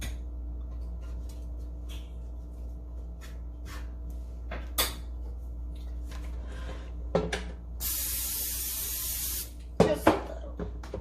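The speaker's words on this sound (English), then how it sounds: "I want to spray them again with the vegetable oil." A short hissing burst of vegetable oil spray over green tomatoes in an air fryer basket, close and fairly loud, amid soft kitchen clicks and knocks in a quiet room.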